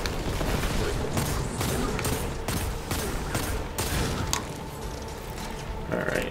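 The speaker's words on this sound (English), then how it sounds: "let's hit this guy with some rockets" Gunfire in the shooter game Destiny 2 during a rocket launcher fight, with dense bursts of shots and explosive booms blended into one loud, continuous barrage.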